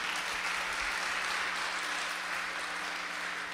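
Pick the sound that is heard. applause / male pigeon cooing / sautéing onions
applause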